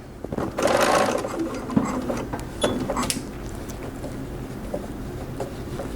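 Home sewing machine fitted with a quarter-inch presser foot runs a seam through fabric for a Halloween witch hat, a close, steady mechanical whir with a few light knocks of handling.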